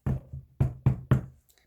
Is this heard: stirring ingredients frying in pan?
no